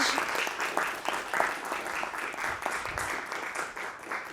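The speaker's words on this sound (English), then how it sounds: "let's give a massive round of applause" Lecture-hall audience applauding after a poetry talk, a lively, continuous clatter of many hands with uneven swells, close and unbroken by talk.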